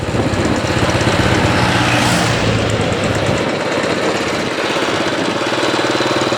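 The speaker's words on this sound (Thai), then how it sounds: "รถไถสูบน้ำขึ้น" A loud, steady engine drone runs without a break, rough and chugging, like a tractor motor working hard to pump water.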